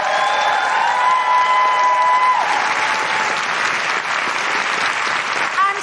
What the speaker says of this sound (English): can we have a big round of applause for the wonderful Cal Wilson?